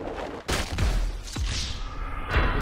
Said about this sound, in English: The car just blew up in the middle of the thing.